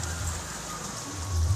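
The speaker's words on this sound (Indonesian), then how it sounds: "Hujan" Rain falls beside a river, a steady soft hiss of drops with low rumbling background, fairly faint and continuous, no voices.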